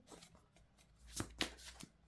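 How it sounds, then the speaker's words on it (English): Tarot and oracle cards are shuffled by hand in a few quiet, brisk riffling bursts, close up and faint, with no talking. "So let's shuffle the cards and pull out 2 cards from the Sun Radiant Oracle cards."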